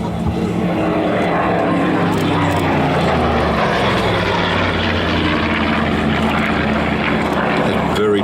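A DHC-4 Caribou propeller transport plane flying at an air show, a loud steady droning engine roar that fills the whole stretch, with a commentator talking over it.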